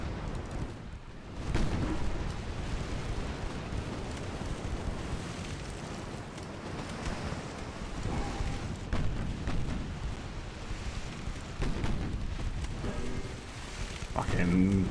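Naval gunfire from the Italian cruiser Eugenio di Savoia in a warship video game: repeated deep booms and rumbling blasts over a continuous roar of battle noise, fairly loud throughout.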